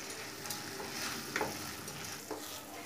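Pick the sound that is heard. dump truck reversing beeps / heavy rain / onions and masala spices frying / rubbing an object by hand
onions and masala spices frying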